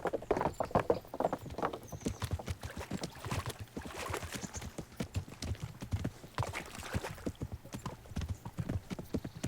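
Horse hooves clip-clop steadily and close in the medieval role-playing game Kingdom Come: Deliverance, a continuous trotting rhythm with faint background ambience throughout.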